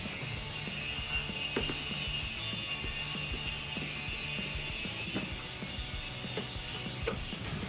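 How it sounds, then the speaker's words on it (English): Rapid clicking of a ratchet tightening screws on an S&B cold air intake with an oiled cotton filter on a 2018-2022 EcoBoost F-150, in steady repeated bursts over a constant background hiss. "once I've got all the screws inserted, I can go around and start tightening each screw down"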